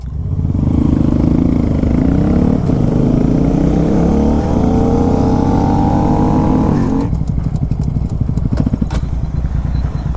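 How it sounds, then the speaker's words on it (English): Small Honda Grom motorcycles ride along a street, their engines loud and close and revving steadily upward for several seconds, then dropping into a choppy, popping idle. "these little Groms are honestly the most little fun you can have on a bike"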